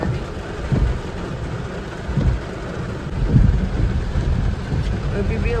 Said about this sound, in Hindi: देखिए कितना बारिश हो रहा है